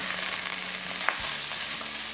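Sliced calabresa sausage fries with chopped onion in a pan, giving a loud continuous close-up sizzle with occasional light scraping as it is stirred, and no voices over it.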